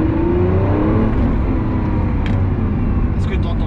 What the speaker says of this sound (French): je vous laisse écouter un petit peu le moteur